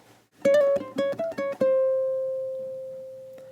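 A ukulele picks out the opening two bars of a gypsy jazz waltz: a quick run of bright plucked notes and chords, then one final note left ringing and slowly fading to silence.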